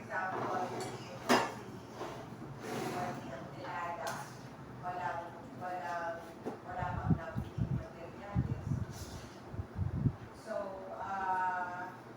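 Metal utensils clink and scrape against a pan and dish as cooked beef steak is scooped out and transferred, in several short clattering bursts, while a person talks throughout.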